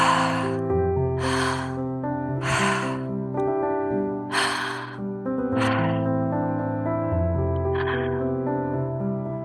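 Deep, forceful breathwork inhales and exhales in a steady repeating rhythm, close and loud, over sustained tonal background music.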